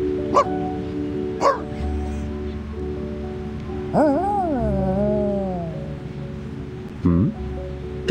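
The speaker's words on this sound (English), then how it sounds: "There is a lovely puppy." A puppy in the video game Reverse: 1999 gives a few short yips and whimpering barks, spaced apart over soft rustling and a low steady hum.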